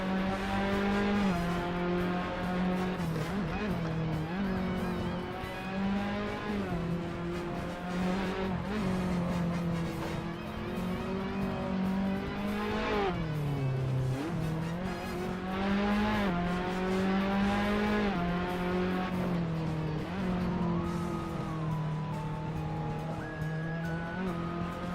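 A light Tatus FA01 race car with 198 horsepower drives a lap, its engine droning and rising and falling in pitch through gear changes and corners, loud and continuous with faint tire squeal.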